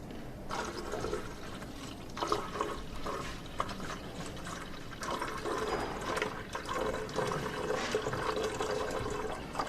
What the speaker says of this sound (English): put water into the tank